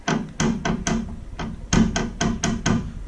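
Repeated knocking from under the hood of a BMW E30 with an M52B28 engine, as if a loose or dented radiator is striking something: sharp, fairly loud knocks in irregular clusters, close and clear with no talk.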